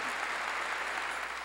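A church congregation claps during a worship service, a brief, even wash of many hands heard at a moderate distance without talking.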